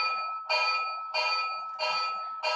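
A model locomotive's electronic sound module rings its bell in four evenly spaced, steady, slightly chalky clangs, each ending abruptly, with nothing else audible.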